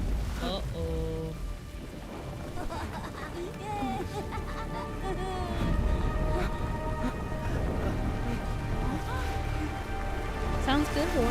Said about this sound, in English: Look, the rain, Nathaniel. It's raining.